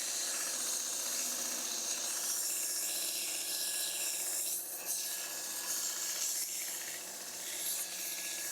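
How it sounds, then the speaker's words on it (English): A belt sander runs in a steady, loud abrasive whir while it smooths a forged metal nail header, the grinding tone dipping slightly now and then as the piece is pressed against the belt. "just clean it up a little bit on the belt sander"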